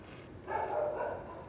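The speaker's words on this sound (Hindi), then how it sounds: "ये गली के कुत्ते क्यों भौंक रहे हैं" Street dogs barking outside, a short muffled burst of barking heard at a distance.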